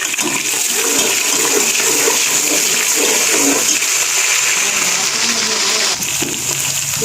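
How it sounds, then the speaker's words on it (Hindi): Onions, tomatoes and green chillies fry in a pan for vegetable rice pulao, a loud, steady hissing sizzle running throughout with a brief dip near the end. "ये फ्राई हो रहा है"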